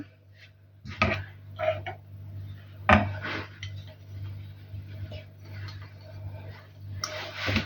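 Pumpkin puree is stirred into pancake batter in a bowl. A spoon or whisk makes sporadic clinks and taps against the bowl over a low steady hum, with a few sharper knocks and no speech.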